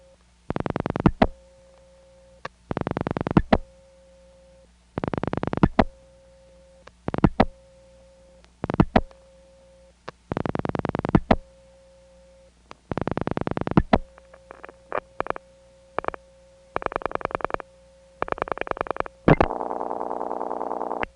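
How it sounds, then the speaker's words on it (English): Telephone dialing and switching tones on a rural step-by-step exchange trunk around Commerce, Georgia, heard as a series of loud bursts separated by a quiet steady tone, ending in a buzzy signal. "That's dialing 8 to get into the Commerce trunk."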